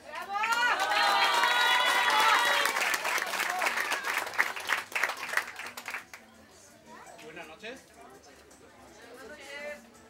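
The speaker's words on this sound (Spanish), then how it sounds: "Aplauso para él." Audience applause and cheering for Sergio Hernández at Laura's quinceañera celebration, loud and dense for about six seconds, then fading into scattered claps and crowd murmur with brief voices.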